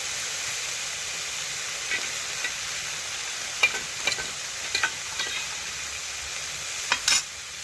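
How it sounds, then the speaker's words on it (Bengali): Small shrimp fry in oil with a soft, steady hiss, broken by a few light clicks and scrapes of stirring. "এই দেখুন ছোট সাইজের চিংড়ি মাছ, এগুলো ভাজতে বেশিক্ষণ টাইম লাগবে না"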